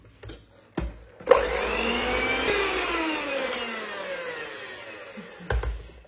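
Apple pie batter with matsun being mixed, an appliance whirring steadily for several seconds with its pitch sliding downward, framed by a few knocks and clatters before and after.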